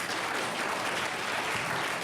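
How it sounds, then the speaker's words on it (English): A seated audience at a Supreme Court term-in-review panel claps steadily, a dense even patter of applause filling the whole moment without speech. "hold the applause to the end"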